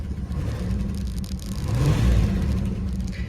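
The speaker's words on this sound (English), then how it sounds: "Doesn't really hang up at RPM, but she's got a misfire something bad." A 1985 Chrysler Fifth Avenue engine with a bad misfire runs nearby, its low, uneven rumble swelling briefly louder midway before settling back, with no talking over it.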